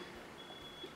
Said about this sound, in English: a truck backing up.